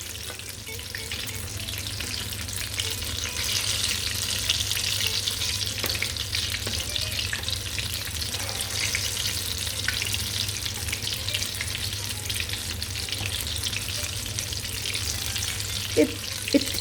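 Russian patties frying in oil, a long even bubbling sizzle held close and steady, with an occasional faint clink of a utensil near the end and no talking.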